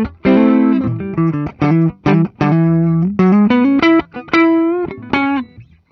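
A 1980 Gibson Les Paul Artisan electric guitar played on its neck pickup with a muddy, somewhat distorted tone, picking a loud melodic run of short single notes and brief sustained notes with small gaps between them.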